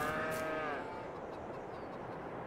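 Dairy cows in Farming Simulator, one short moo close by at the start, then a quiet farmyard ambience.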